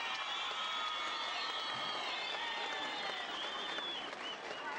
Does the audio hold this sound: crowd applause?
yes